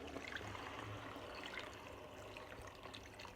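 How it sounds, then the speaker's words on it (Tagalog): Water pours in a steady, faint, continuous rush into a pan of sautéed cabbage and sardines being cooked for udon noodles. "Lagay na natin yung tubig."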